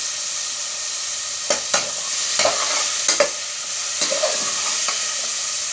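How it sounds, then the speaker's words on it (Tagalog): Carrot, potato and beef frying in a pan hiss steadily while a utensil scrapes through them in several short, separate strokes, close and fairly loud. "Haluin ko muna po."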